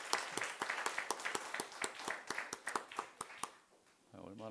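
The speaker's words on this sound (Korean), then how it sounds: "우리 하나님께 영광 또 축복의 박수 한번 하겠습니다" A church congregation claps together at a New Year's Eve worship service, a string of sharp, fairly regular handclaps lasting several seconds before fading out as a voice begins to talk.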